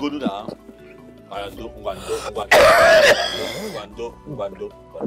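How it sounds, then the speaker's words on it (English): A woman coughs in a dramatic scene, one loud harsh throaty burst with throat clearing, set among talking voices close by. "Mama, you have to stop coughing."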